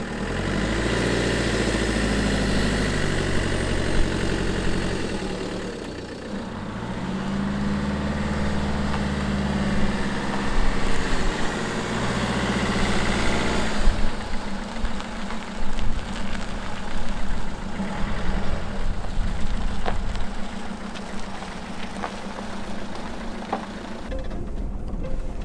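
Camper van Groot drives along German roads, with a steady engine drone and low rumble that shifts as the vehicle changes speed, plus road noise throughout the whole stretch.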